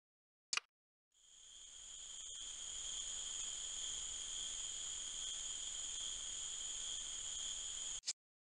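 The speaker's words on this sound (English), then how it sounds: "Western spadefoot toad." A Western spadefoot toad gives one steady, high buzzing trill that holds evenly for about seven seconds, alone against a quiet background.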